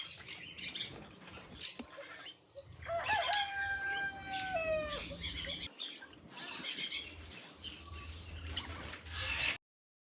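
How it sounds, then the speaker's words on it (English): A Swinhoe's pheasant in an aviary gives loud, strained calls with a rising, sliding shriek near the middle, set against constant outdoor noise and other birds. "Here we have the Swinhose pheasant."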